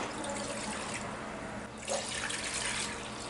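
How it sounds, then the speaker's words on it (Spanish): Water pours steadily from a tap into a cooking pot, about a litre for boiling spaghetti, a continuous close rushing splash with a slight change in tone partway through. "voy a estar poniendo aquí 1 litro de agua a hervir."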